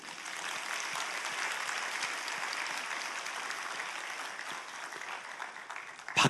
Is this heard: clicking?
no